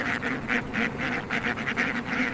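A flock of farm ducks quacks continuously, with rapid overlapping calls close by over a constant background din.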